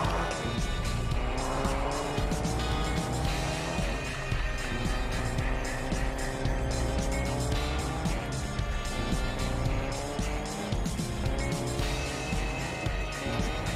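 Car engine in Fortnite gameplay, a steady continuous drone with shifting revving tones and occasional tire squeal-like sweeps, loud and constant throughout.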